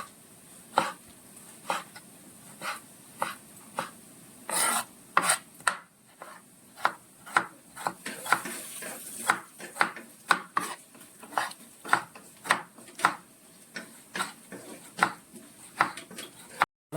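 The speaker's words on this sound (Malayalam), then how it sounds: "നമ്മൾ ഫൈൻ ചോപ്പായിട്ട് അരിയുവാണേ ചെറുതായിട്ട് അരിയണം" Repeated knife chops on a board as an onion is finely chopped, quick and fairly regular, close by, with brief pauses between bursts.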